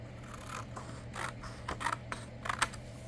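Paper for a journal page being cut with scissors, a few sharp snips and crisp clicks spaced irregularly over a low steady hum, close by with no voices.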